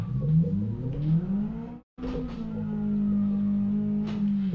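Engine of a lowered car with a straight-through exhaust revving in the Live for Speed racing game, rising in pitch, cutting out briefly near two seconds, then settling into a steady tonal hum.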